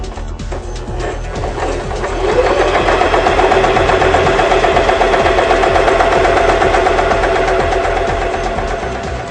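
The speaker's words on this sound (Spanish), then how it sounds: "Ahora vamos a iniciar una costura recta con el selector de largo de puntada en el número 2." A sewing machine runs a straight stitch at stitch length 2, a loud close mechanical whir with rapid needle rhythm that starts lower, then rises and holds steady for several seconds before easing off.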